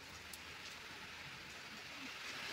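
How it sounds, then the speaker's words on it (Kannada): Heavy rain pours down in a dense, steady hiss that stays even and unbroken throughout, quiet overall, with no voices. "ಸೊ ನೋಡ್ರಿ ಎಷ್ಟು ಜೋರು ಬರಕತ್ತದ ನೋಡ್ರಿ ಮಳೆ"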